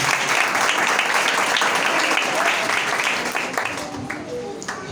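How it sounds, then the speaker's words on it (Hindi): Applause from a church congregation greeting a pastor, loud and dense throughout, with many hands clapping steadily and voices mixed into the crowd noise. "ज़ोरदार तालियों के साथ।"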